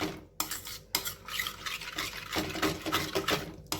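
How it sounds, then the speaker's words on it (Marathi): Room-temperature milk is stirred into a flour and butter roux for white sauce, the spoon scraping and clinking against the pan in quick, uneven strokes, close and moderately loud, with no talking. "आता मी याच्यामध्ये घालते आहे दूध आणि हे गाठी न होता आपल्याला पटकन ही कणिक जी आहे तर ती मिक्स करून घ्यायची"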